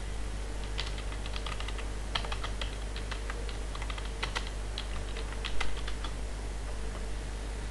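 Keys clack on a computer keyboard as a web address is typed into a browser, in quick bursts of close, crisp taps over a low steady hum, with no speech.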